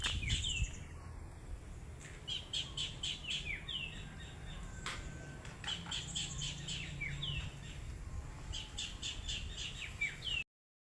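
Birds around a racing pigeon loft chirp and squawk in scattered bursts throughout, fairly faint and at a moderate distance over a low outdoor background.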